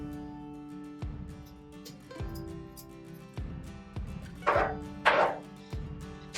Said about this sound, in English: take a spoon and just scrape the outsides of the ginger